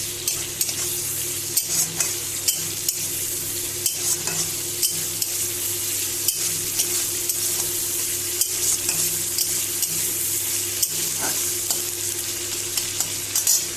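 Shrimp fry with tomato and green chilies in a pan, a constant crackling sizzle with a low steady hum beneath and regular taps and scrapes of a spatula, close and even throughout, no voices.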